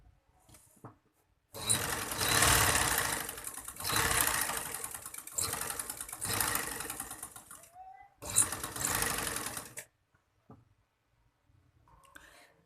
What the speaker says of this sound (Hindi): बिल्कुल इसके किनारे किनारे पे सिलाई लगाऊंगी ताकि इसका कि निशान सा बन जाए